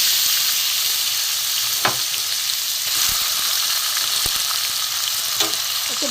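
Chopped onion, grated garlic, green chilli and tomato fry together in hot oil, giving a steady, close sizzle broken by a few sharp clicks from a stirring utensil, with no one speaking.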